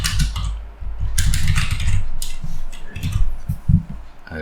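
Fast bursts of typing on a computer keyboard with brief pauses, loud and close, a few heavier key thumps near the end, no voices.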